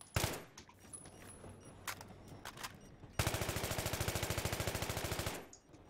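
Battlefield 3 campaign gunfire in the New York metro: scattered single shots first, then a long, rapid, steady automatic burst, loud and close, before cutting off.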